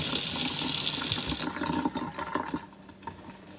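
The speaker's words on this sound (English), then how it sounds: "Let me just rinse it." Tap water runs steadily over broccoli being rinsed in a sink, a bright close splash for about a second and a half, then softer dripping and handling sounds as the flow stops.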